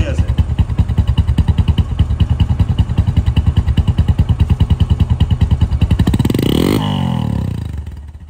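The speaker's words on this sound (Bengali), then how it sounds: "এই বাইকটির সাউন্ডটা আমি মনে করি সারা রাত শুনি, এমন মনে চাইছে, এত সুন্দর সাউন্ড।" A Bajaj Discover 135cc motorcycle idling close by with a fast, even, throbbing beat for about six seconds, then the engine note shifts and fades out near the end.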